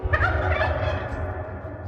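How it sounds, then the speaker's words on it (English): A turkey lets out a loud, close, rattling gobble that bursts out at the start and trails off over a steady low background rumble. "Turkeys."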